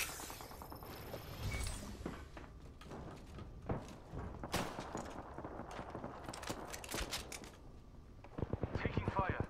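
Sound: gunfire in Apex Legends video game

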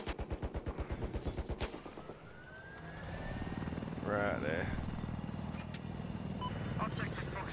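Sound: helicopter in Battlefield 4 video game

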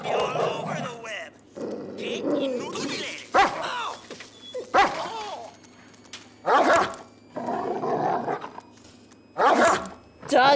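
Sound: dog barking in GTA V video game

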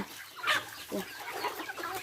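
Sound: chickens clucking

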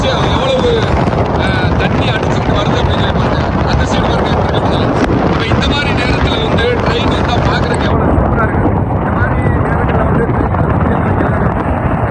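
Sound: strong wind at Pamban railway bridge

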